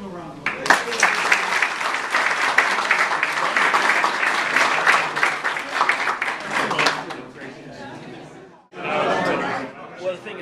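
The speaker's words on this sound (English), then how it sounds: "Let's give them a round of applause." Church congregation applauding loudly and steadily for several seconds, with chatter and a little laughter mixed in, then a brief pause before another burst of clapping.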